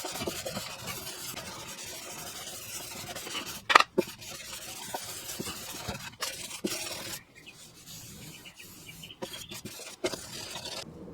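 Hand sanding over a car body rust repair to remove 180 grit scratches before priming, a steady close rubbing rasp that runs for several seconds, breaks with a few sharp knocks, then continues more quietly and intermittently.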